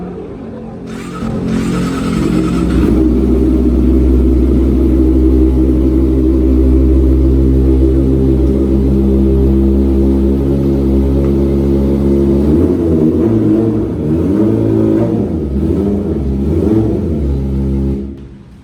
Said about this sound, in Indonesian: dengerin ya suara knalpot dari Eropa